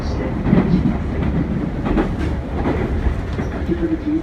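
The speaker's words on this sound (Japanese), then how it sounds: "ご乗車ありがとうございました。 まもなく終点熱海です。" Train rolling into Atami terminal station in Japan, a steady rumble with rhythmic clickety-clack of wheels over rail joints and a faint high squeal near the end, close and continuous with no talking.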